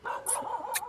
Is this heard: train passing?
no